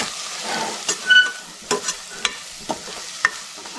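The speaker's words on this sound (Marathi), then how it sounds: "ओलं खोबरं आहे बघा, ओलं खोबरं चांगलं असं फिरवून घ्यायचं" Fresh grated coconut and turmeric are stirred in a frying pan for a val bean and snake gourd bhaji. A soft sizzle runs under repeated scraping spoon strokes, with no talking.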